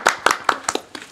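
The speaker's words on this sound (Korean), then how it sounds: "우리 3년, 5년, 10년 근속받이 해주신 세 분 선생님께 박수 한번 신부님 쳐드리면서." An audience claps for long-serving catechism teachers at a Catholic gathering: five or six distinct, fairly loud claps spaced out and thinning toward the end, sparse rather than a full ovation.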